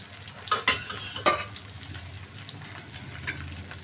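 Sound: stirring boiled taro with chili, salt, turmeric in pan

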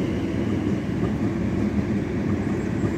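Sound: train passing by

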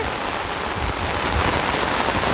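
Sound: heavy rain falling

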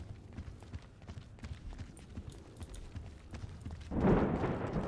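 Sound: person running footsteps in GTA 5 video game

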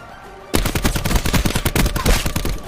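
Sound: gunshots from a video game

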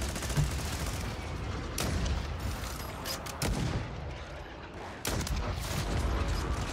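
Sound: gunfire in Call of Duty: Modern Warfare 3 video game

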